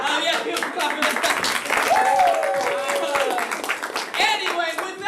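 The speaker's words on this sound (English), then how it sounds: "give a clap for this." Audience clapping and applause at a comedy show, moderately loud and continuous, mixed with cheering voices and a short tonal sound partway through.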